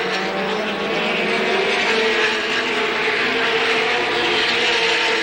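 Race cars roar around an oval track in a 1985 ASA stock car race, a dense, loud and continuous engine drone with no break, the pack sounding from a moderate distance.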